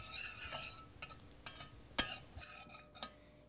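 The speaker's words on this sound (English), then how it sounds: "I'm going to stir this up a little bit." A spoon scrapes and clinks around a pan as a sauce with lime is stirred, a few quiet separate strokes close by, with no talk.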